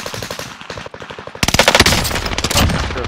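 Rapid automatic AUG fire in Call of Duty: Modern Warfare, a quieter burst of quick shots followed by a louder, sustained stream of rounds with a rattling echo, loud and close.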